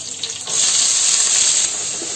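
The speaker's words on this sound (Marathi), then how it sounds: "जरा थोडा कांदा फ्राय करून घेते, लालसर" Finely chopped onion with curry leaves and asafoetida drops into hot oil in a pan, bursting into a loud, steady hiss that holds for about two seconds, close by and without voices.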